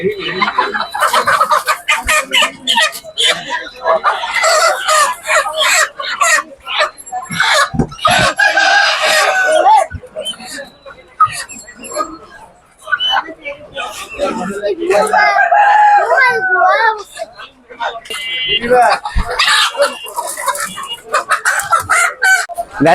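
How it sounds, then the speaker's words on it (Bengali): Two roosters at a poultry market crow loudly and repeatedly, with sharp clucks and squawks in between, close and continuous throughout. "দুটো কক মুরগি"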